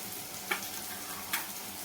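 Home spice mix with red chilli powder, garam masala, turmeric and asafoetida sautéing in a pan for a black pea curry, a close steady sizzle broken by two crisp spoon taps.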